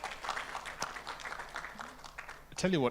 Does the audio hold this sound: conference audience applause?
yes